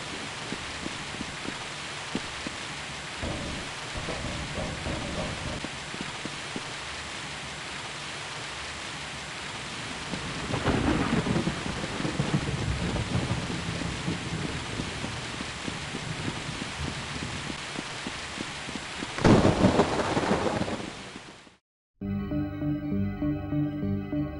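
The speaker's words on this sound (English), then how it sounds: "This is the really gloomy map with the rainy weather and a thunderstorm." Rain pours steadily on the Counter-Strike map Rainy Estate, a constant wash of noise with two louder surges like rolling thunder, before cutting to a brief musical tone at the end.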